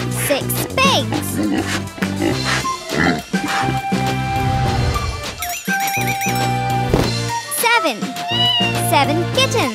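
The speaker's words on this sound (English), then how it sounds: "Seven kittens." Kittens meowing in several high, rising mews over lively music, with other animal sounds and voices woven in.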